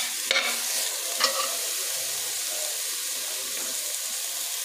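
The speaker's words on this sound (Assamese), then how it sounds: "দালিকেইটা দি অলপ সময় ভাজি ল'ব লাগিব" Soaked lentils frying in a pan, a constant bright sizzle with two sharp stirring scrapes near the start, then an even hiss continuing alone, close by.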